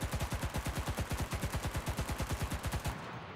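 Rapid automatic gunfire from the shooter game CRSED, a fast even burst of about twenty-five shots that stops abruptly near the end, close and loud.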